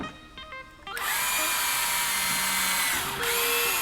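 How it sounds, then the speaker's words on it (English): A power drill pre-drills holes in soft wood for deck screws while building a raised garden bed. The motor whirs up briefly, then runs loud and steady close by, dips for a moment and spins up again. "As long as you pre-drill, I'm gonna go ahead and pre-drill these."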